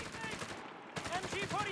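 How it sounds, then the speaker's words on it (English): Rapid bursts of .50 cal machine gun fire rattle amid battle noise and faint voices in the strategy video game Company of Heroes 3, with a brief gap between fusillades; mid-distance and moderately loud. "Another 50 cal now."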